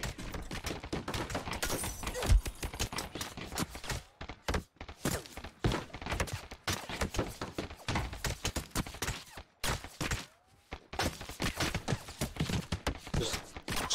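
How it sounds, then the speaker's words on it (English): Heavy gunfire in the ROE battle royale video game: dense, rapid volleys of sharp shots rattling almost nonstop, with brief pauses between bursts, heard fairly close. "I'm taking heavy fire."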